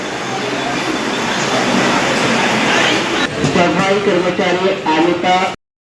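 A Virar fast local train rumbles with a steady, loud broadband roar throughout, and voices talk over the noise in the later part before it cuts off abruptly.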